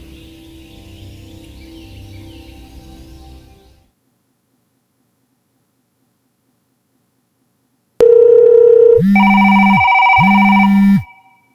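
A telephone ring tone sounds loud and close after a stretch of quiet, in two sustained ring bursts separated by a short gap, following a low murmur of background sound at the start.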